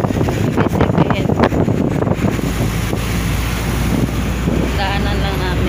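Loud wind buffets and roars steadily across the microphone of a moving jeep, with engine rumble and occasional voices underneath.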